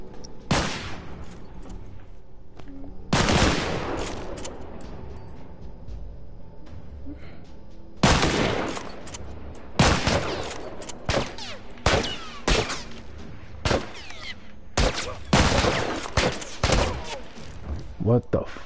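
Military rifle fire in a multiplayer shooter video game cracks out in loud, sharp shots, some single and some in quick clusters, spread across the clip with quieter gaps and occasional voices between them.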